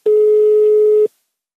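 A steady telephone signal tone before a call to a zoo in Zagreb is answered, continuous and loud for about one second, then cutting off abruptly into silence.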